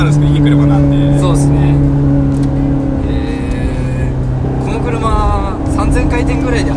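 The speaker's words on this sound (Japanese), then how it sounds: "3000回転ぐらいで走ってると結構音うるさいですね。" A Ferrari 430 Scuderia, a lightweight limited model with little sound insulation, drones loudly while cruising around 3000 rpm, a steady engine hum heard from inside the cabin under people talking.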